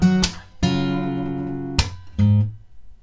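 Acoustic guitar fingerpicking the first measure of a song: a few plucked notes ringing out, one held for over a second, clear and close with no talking.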